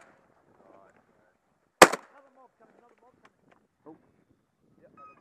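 One loud, sharp shotgun blast from a Beretta A400 Xtreme Plus while hunting outdoors in New Zealand, a single close report with a brief echo tail, surrounded by quiet voices talking.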